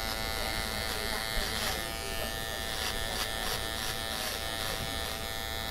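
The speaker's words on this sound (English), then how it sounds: "Let's just shave all this off." An electric shaver runs steadily at a barbershop as hair is shaved off, a loud, close, continuous buzzing drone with faint rhythmic scraping as it passes over the scalp.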